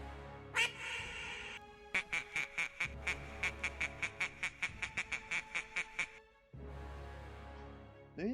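A duck quacks in a rapid run of about fifteen evenly spaced, fairly loud quacks, with steady background ambience before and after and no talk.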